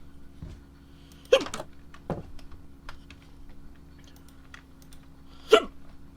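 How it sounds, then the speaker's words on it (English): Two or three sharp, isolated hiccups from a person, sudden and close, separated by quiet stretches with a soft steady hum and a few faint clicks. "Hiccups for no reason all of a sudden."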